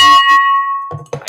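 A single bright strike of a victory bell rings out and sustains as a clear tone, then fades as voices cut in.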